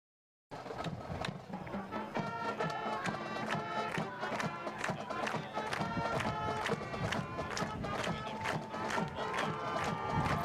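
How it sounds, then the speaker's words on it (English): A crowd at a varsity high school football game, Algonac Muskrats at Richmond Blue Devils, applauds senior athletes and their parents with a sustained, distant roar of clapping and cheering that starts abruptly and holds steady. "Can we get one more round of applause for all of our senior athletes and their parents?"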